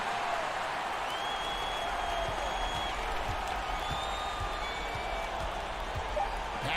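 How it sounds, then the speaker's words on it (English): Home crowd cheering in a Euroleague basketball video game, a continuous dense wash of applause and crowd noise with faint whistles, steady throughout as a commentator talks over it. "So the home crowd happy here as they get the victory."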